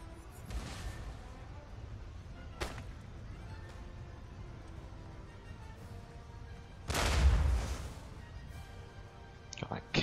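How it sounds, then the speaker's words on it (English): Cannon booms at a battle reenactment, with British troops and German Legion foot soldiers reloading muskets by a wall; a few loud, sharp blasts ring out, with the biggest broad rumbling report near the end, over crowd ambience. "Cannon shooting at someone."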